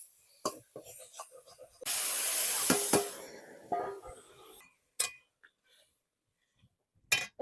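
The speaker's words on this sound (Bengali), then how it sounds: "এবারে আমি এই সিদ্ধ করা লাউটা ঢেলে দেবো" Boiled home-grown bottle gourd poured into a pan of fried spices sets off a sudden hissing burst of steam lasting over a second, fading into a few scattered utensil clinks and near silence.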